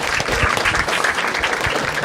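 Audience applause at a Marathi stand-up comedy show, a dense steady clatter of many hands clapping close and loud, filling the whole moment without any voices.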